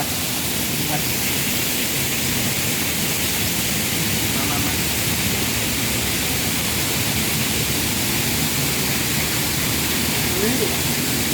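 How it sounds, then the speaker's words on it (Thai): A constant broadband rush of falling water from a fountain waterfall in a butterfly garden in Bangkok fills the clip, steady and loud, with no pauses. "มีน้ำพุน้ำตก ข้างล่างนะ"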